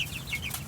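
A laying hen among young meat broiler chickens gives a few soft, close clucks in quick succession, with faint bird calls above a low background hum.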